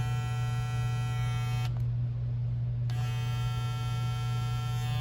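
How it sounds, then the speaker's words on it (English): A steady, loud electric buzzing hum from a StyleCraft Gamma+ Ergo hair clipper motor running continuously, its high whine briefly dropping out for about a second before returning. "That's a very powerful clipper."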